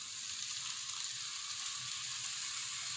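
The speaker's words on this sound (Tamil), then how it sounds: "தக்காளியை நல்லா வதக்கிக்கலாம்." Tomato paste sautéing in a pan for mushroom masala, giving a steady, even hiss and sizzle that holds throughout, close and without speech.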